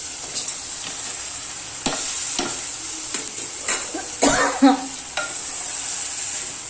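Rice frying in a pan on an Indian home stove, a steady bright sizzle with scraping stirs and a few louder spoon clatters, close, no talk.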